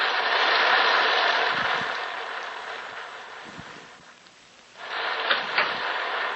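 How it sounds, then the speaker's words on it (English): Steady rain falls as a sound effect in a 1947 radio drama adaptation of The Fall of the House of Usher, a loud hiss that fades somewhat mid-way, then swells back with a few low rumbles. "And the rain. Look at the rain."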